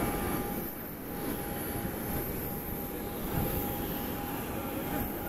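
Steady broadband roar of a Garuda Bombardier turboprop passenger plane engine on a Lombok–Semarang flight, with a constant whine on top; continuous and fairly loud throughout, no talk.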